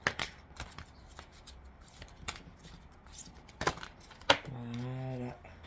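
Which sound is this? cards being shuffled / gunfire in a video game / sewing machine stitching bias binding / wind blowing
cards being shuffled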